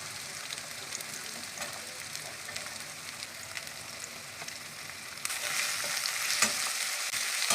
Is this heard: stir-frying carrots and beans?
yes